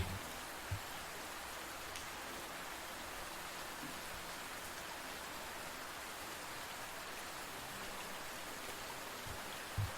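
Steady rain falls over a city at night, a dense even hiss of drops on wet pavements and streets, constant and enveloping for the whole stretch with only a couple of faint knocks.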